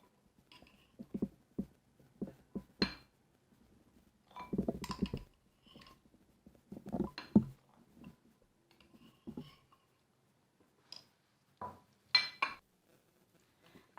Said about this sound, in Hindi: ये देखिए अखरोट मैंने निकाल लिए दूध में से